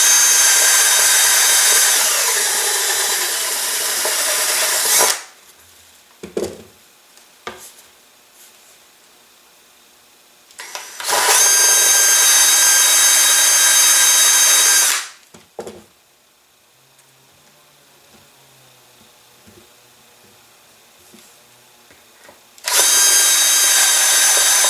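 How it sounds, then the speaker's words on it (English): Power drill with a step bit boring through a rocket body tube, three loud sustained whining bursts of several seconds each, close up, separated by quiet pauses with light handling clicks. "And with my step bit, I'll simply just drill all the way through."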